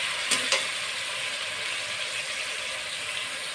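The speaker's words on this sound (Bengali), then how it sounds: "একবারেই দুটোকে কষবো, এটাও ভাজা হয়ে যাবে আর আমার চিকেনটাও সাথে সাথে কষানো হয়ে যাবে" Chicken and spices sautéing together in a pan with salt added, a soft steady sizzle with two brief clinks of a utensil stirring near the start.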